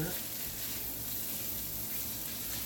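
Tomato, bacon grease and onions simmer together in a pot for pasta fazool, a steady, even sizzle and bubbling hiss held close throughout.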